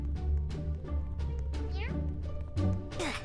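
A black cat in the Roblox game Escape Bleh Cat: a few meows with rising and falling pitch, mixed in with game noise and voices talking over them.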